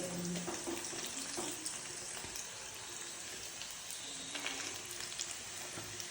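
Onions frying in a pan give a steady, quiet sizzle throughout, close by and without talk.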